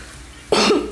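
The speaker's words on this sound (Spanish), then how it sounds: "tengo tos" A single short, harsh cough breaks a quiet background, close and fairly loud.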